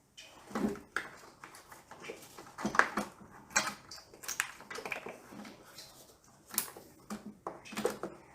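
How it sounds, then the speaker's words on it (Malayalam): Baking soda and cocoa powder are sifted through a sieve into a bowl, with irregular light metallic taps and clinks, faint and close, separated by short pauses. "അതിനുശേഷം കൊക്കോ പൗഡർ ഒന്നോ രണ്ടോ സ്പൂൺ ആവശ്യത്തിനനുസരിച്ച് ഇട്ട് കൊടുത്ത് നന്നായിട്ടൊന്ന് അരിച്ചെടുക്കാം"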